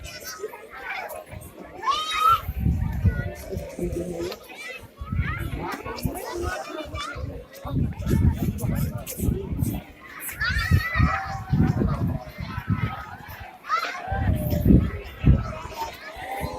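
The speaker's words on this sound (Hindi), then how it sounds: "शायद आपको भी चीखें सुनाई दे रही होंगी" A lively crowd of children and adults shouting and screaming excitedly in heavy snowfall in Shimla, overlapping voices rising and falling in bursts.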